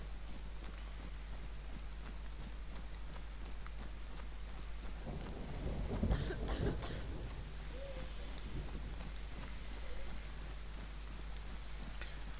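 Steady rain hisses across the whole stretch in the video game DayZ, with a low thunder rumble swelling near the middle and then fading back into the downpour.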